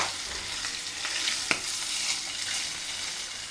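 Fish fry in a small amount of oil in a home kitchen pan, giving a steady close sizzle with a single sharp clink of a utensil partway through.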